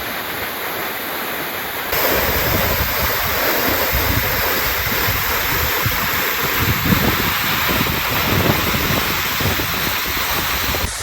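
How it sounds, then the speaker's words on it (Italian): Powerful rushing water from the San Giovanni waterfalls on the Maiella mountain in Abruzzo, a dense constant roar that grows louder after a couple of seconds and holds steady with no voices. "cascate di San Giovanni"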